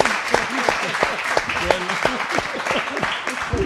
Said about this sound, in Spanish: Perfecte, uns aplaudiments